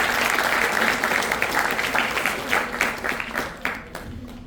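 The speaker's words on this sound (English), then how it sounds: "Can we have a round of applause for them," An audience at an induction event claps for students who solved a Rubik's Cube. The applause is fairly close and crisp, tapering off toward the end.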